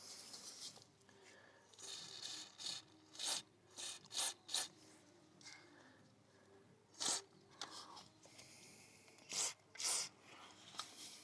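Brush scrubbing a motorcycle chain clean in short, close rasping bursts, separated by brief pauses and varying in strength, over a faint background hiss.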